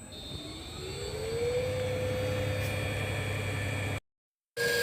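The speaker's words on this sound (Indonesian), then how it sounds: "maka motor akan berjalan" An electric motor driven by a variable frequency drive starts and spins up, a steady whine rising in pitch over the first second and a half, then holding a constant hum before cutting out briefly near the end.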